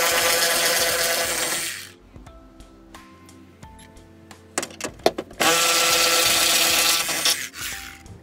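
A power tool removes three screws from a Chevrolet Tahoe window regulator, with loud broadband whirring bursts at the start and again later. Between them come quieter clicks and handling knocks.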